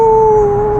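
A voice imitates a coyote's howl with a single loud, steady, drawn-out tone held close to the listener.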